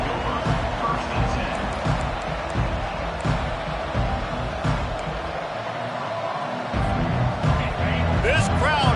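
A packed stadium crowd at an LSU football game roars continuously, a loud, broad wash of voices and cheering that swells near the end, with a commentator talking over it.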